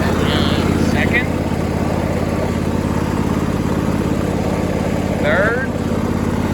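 An old junkyard Craftsman riding mower engine runs steadily in gear, a close, continuous low chugging drone with brief squeaky chirps over it.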